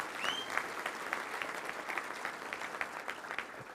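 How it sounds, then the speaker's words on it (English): Audience applause for visiting Arkansas State guests at an event, steady clapping from a crowd heard at moderate distance, sustained throughout with no speech. "Let's give a round of applause for them."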